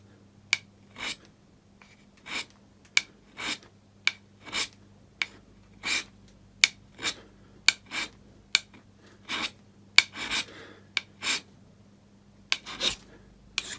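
A hand scraper works the flats of a Myford lathe cross slide in short, regular rasping strokes, about one per second, close and crisp over a faint low hum.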